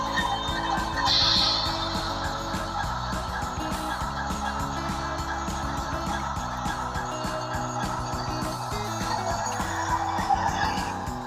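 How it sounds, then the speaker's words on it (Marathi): A Trans Europe Express train engine starting and running, a loud, steady mechanical rumble with whining, squealing tones that continue throughout, with no talking. "आणि आता हे इंजिन स्टार्ट झालेलं आहे"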